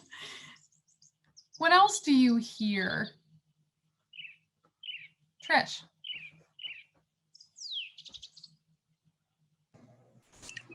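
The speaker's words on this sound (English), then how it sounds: "We should all be hearing some bird calls." Recorded bird calls played aloud during a mindfulness session, a few short chirps and a descending whistle spread across a quiet room, with a voice asking a question between them.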